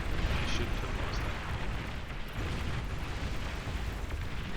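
Commander unit destroyed in Supreme Commander during a naval battle, heard as a dense, rumbling explosion roar that fills the clip with broadband noise and a couple of small pops, with no talking.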